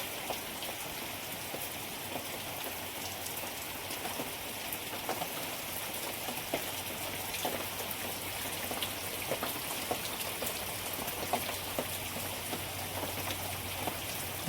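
Steady, heavy unseasonal rain pours down continuously over rice fields in Mandangad, Maharashtra, a dense hiss of drops pattering on surfaces nearby.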